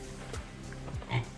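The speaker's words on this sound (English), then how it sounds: "Snorting at you. Pigs." Pigs snorting inside a farm building on a Scottish estate, a few short low grunts spaced across the moment over a quiet room background.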